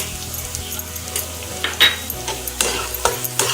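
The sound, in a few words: stirring fried onion with turmeric and coriander-cumin powder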